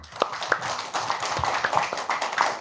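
Scattered clapping from a small gathering at an Indonesian religious talk, a loose, uneven patter of individual claps with sharp separate hits, moderately close and fairly quiet.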